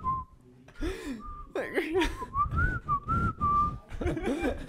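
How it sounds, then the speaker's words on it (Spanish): Several people whistle melodies in turn, sustained clear tones rising and falling, interrupted by brief chuckles and laughter close by. "Que silbemos también."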